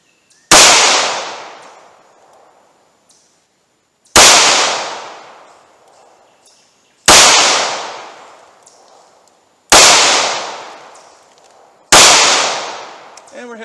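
Five loud, sharp gunshots from a Smith & Wesson 342 PD .38 Special revolver fired at a target seven yards away, spaced a few seconds apart, each with a quick decaying echo.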